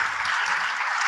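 An audience applauding, a dense steady wash of many hands clapping, fairly loud and continuous through the short moment.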